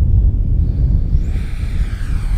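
An RC L-39 Albatros jet with a 50mm electric ducted fan on 4S power takes off, its loud, steady whooshing fan roar and rumble rising in pitch as it climbs away.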